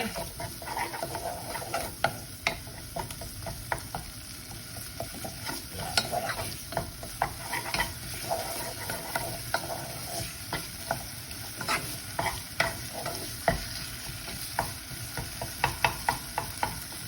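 Chopped onions and garlic frying in a pan for a date-night chicken parmigiana, a steady close sizzle under frequent quick scrapes and clicks of a spoon stirring throughout; no speech.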